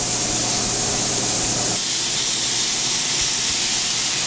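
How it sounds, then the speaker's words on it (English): Sausage and ground turkey sizzle in a frying pan, a loud, dense, continuous crackling hiss up close with a steady hum underneath that drops away partway through. "Take a little bit of the sausage and throw it into the frying pan."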